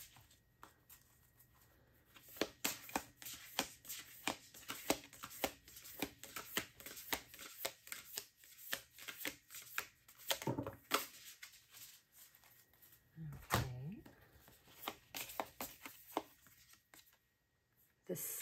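Tarot cards being shuffled by hand in a quiet room, a long run of crisp riffling and flicking bursts at an uneven rhythm, close and fairly soft, with brief pauses between passes.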